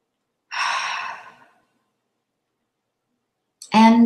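A single person breathes deeply, with one long, close, airy exhale like a sigh, then silence, then the start of another sharp breath, clear and alone without talk.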